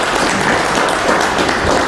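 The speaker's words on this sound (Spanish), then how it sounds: "un aplauso y los dejo con ella" Audience applauding a speaker about to present on Mexican history, a steady dense wash of clapping that holds evenly from start to finish without voices.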